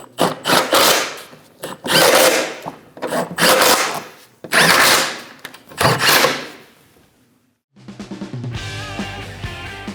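A power tool drives shield bolts snug on a 2001-2006 Chevrolet Silverado 2500 HD with an 8.1L V8, five close, loud bursts of whirring separated by brief pauses, then a lower sustained mechanical hum at the end.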